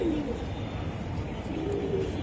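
Chocolate racer pigeons give soft, low coos, faint and close, beneath a steady wash of background noise.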